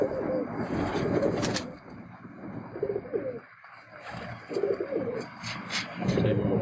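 Teddy pigeons at a loft cooing in repeated low rolling phrases, fairly close and moderately loud, with brief pauses between calls and high chirps from other birds nearby; a faint voice is heard at times.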